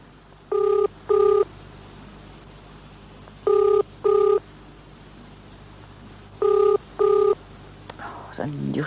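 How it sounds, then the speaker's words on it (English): Touch-tone telephone dialed for a call to a garage: three pairs of clear DTMF beeps spaced evenly over a quiet background, with a brief rustle at the end. "I'm ringing the garage."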